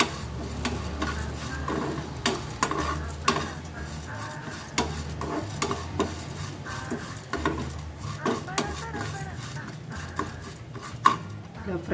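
Urad, moong and chana dal fry in a pan with curry leaves for curry leaves rice. A soft, low sizzle runs under repeated light clicks and scrapes of a stirring spoon against the pan.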